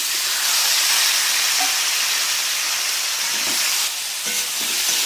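Boiled cauliflower and potato hit hot oil with ginger-garlic paste in a pan, giving a loud, steady hiss and sizzle up close that carries on without a break, with a few faint knocks of stirring near the end.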